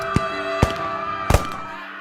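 Three sharp, loud bangs at uneven intervals, the last one a quick double crack, with a low steady hum underneath.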